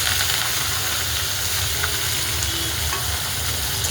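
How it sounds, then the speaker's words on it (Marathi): Onion, tomato and curry leaves fry in hot oil for a capsicum vegetable dish, giving a steady, loud sizzle with some stirring, close by and with no talk. "तेलामध्ये आता कांदा टमॅटो आणि कढीपत्ता एकत्र टाकून घेऊया"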